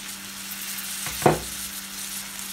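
Tomatoes go into a pan of Baila fish frying with coriander and cumin spices, giving a steady sizzle that flares into a sharp, loud hiss as they land, then settles back to frying.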